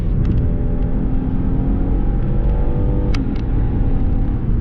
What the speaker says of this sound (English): it will wake itself up in a heartbeat and give you that sort of enthusiast driving experience that you're looking for